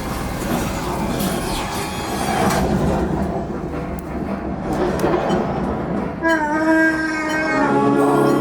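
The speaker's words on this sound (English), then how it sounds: "There's the train." A train rumbles past steadily and loudly on the Smuggler's Run ride at Disneyland Park, California, wheels clattering, with a rising metallic squeal near the end.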